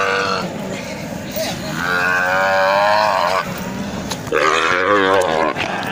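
Nelore cattle low repeatedly during work with the herd, long, loud moos close by, one after another, with rough outdoor noise and people's voices mixed in.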